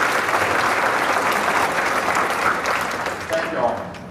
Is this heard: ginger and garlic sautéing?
no